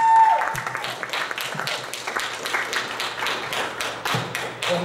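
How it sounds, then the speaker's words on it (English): Applause from an audience at an event, heard as dense, uneven clapping that carries on steadily, with a brief tone at the start and occasional thumps mixed in. "Give her a applause."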